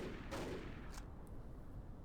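Gunfire from military units in the Battle for Iwo Jima video game, a dense burst of shots early on followed by a sustained crackling rumble, with no talking.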